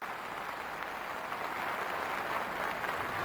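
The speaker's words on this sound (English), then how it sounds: "Warm applause for the boys of the Queen Victoria School." An audience at the 1990 Edinburgh Military Tattoo applauds the boys of the Queen Victoria School, a dense, steady wash of clapping from a large crowd outdoors that swells slightly.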